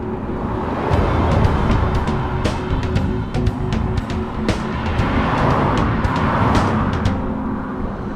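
Cars passing along a rural road through sheep country near Wanaka, New Zealand, a steady broadband rush of traffic noise sustained throughout, with a few brighter swells as vehicles go by.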